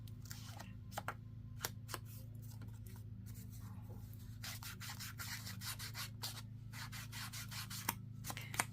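A sponge rubs along the edges of paper ephemera with quiet, steady scratchy strokes. Small taps punctuate the rubbing, and a constant low hum sits underneath.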